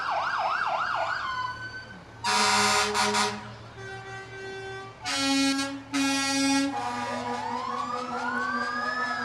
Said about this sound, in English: Not to be outdone, Hal, I'm sending you Gravel Switches Fire Department, engine 1